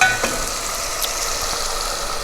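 Beef curry with cauliflower and cabbage sizzles loudly in a pot as it is fried and stirred, a dense steady crackle up close with a brief scrape of the spoon and no talking.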